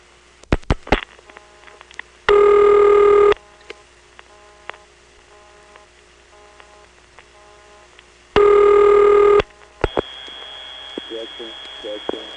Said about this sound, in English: Let's try dialing something like 2.